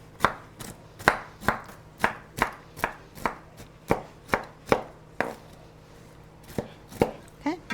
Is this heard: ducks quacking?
no